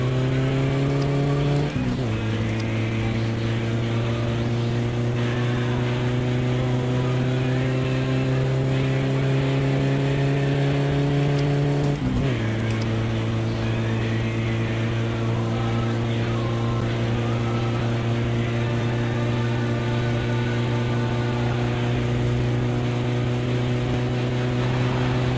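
A car in the game My Summer Car accelerates hard on nitro, its engine a loud sustained drone that rises steadily in pitch, broken by two brief gear-change dips before climbing again, with no talk over it.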